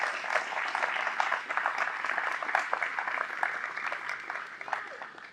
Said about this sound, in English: Please give you all a round of applause